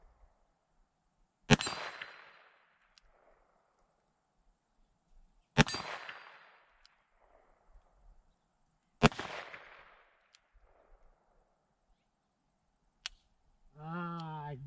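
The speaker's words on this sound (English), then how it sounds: "Now I'm going to try some single action shots at the small plate there." Three single-action shots from a Taurus 605 revolver at an outdoor range, each a sharp crack with a ringing metallic clang from a small steel plate, spaced a few seconds apart, followed by a faint click and a short voiced sound.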